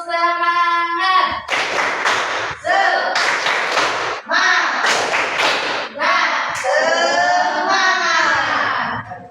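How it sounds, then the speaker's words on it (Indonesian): A grade 9 Islamic education class does a rhythmic spirit clap, sharp bursts of clapping arranged in a patterned beat with children's voices chanting between and over the claps, close and loud. "Oke, tepuk semangat dulu. Tepuk semangat."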